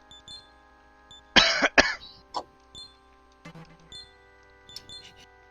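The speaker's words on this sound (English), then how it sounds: "why are you coughing?" Someone coughs: a sharp double cough in a quiet room, loud and close, followed by a smaller throat-clearing sound and faint shuffling noises afterward.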